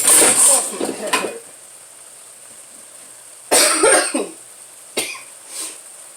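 Several harsh coughs up close, a cluster at the start and another burst midway, with a single short cough near the end and quiet gaps between.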